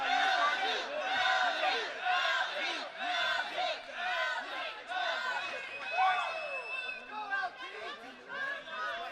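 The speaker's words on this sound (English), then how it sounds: "Crowd cheering on LT here at home." Dense crowd cheering and shouting at an MMA tournament fight between rounds, a steady loud roar of many voices with swelling yells throughout.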